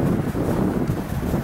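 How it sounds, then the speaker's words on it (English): Steady, loud wind buffets the microphone outdoors at a solo backpacking campsite, a continuous low rumbling roar with no voices. "Hoping that the wind will die down by then."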